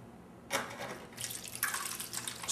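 Water poured slowly into a pot of ribs, a soft running splash that starts abruptly and continues with a brief pause, close and fairly quiet.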